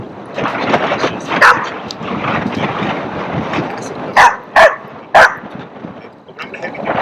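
Australian Shepherd barking during a training session, several sharp barks late in the clip over a steady background of movement and murmured talk, with a few quieter yips earlier.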